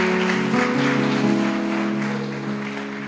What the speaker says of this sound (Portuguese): Bata palmas e glorifique a Jesus